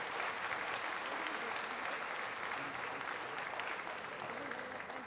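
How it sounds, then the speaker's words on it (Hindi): Loud, steady applause from an audience at a government official language conference award ceremony, with dense, continuous clapping filling the whole stretch. "जोरदार तालियों से स्वागत कीजिए अपने सैन्य बलों का"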